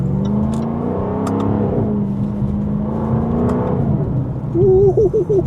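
A 2024 Jaguar F-Type R75 sports car engine drones and rises in pitch, dips briefly during gear changes, then a sharper rev swells loudly near the end.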